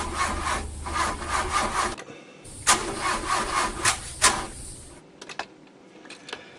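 A car engine cranks but fails to start, the starter grinding in repeated rhythmic bursts separated by short pauses, close and loud, ending in a few weaker clicks.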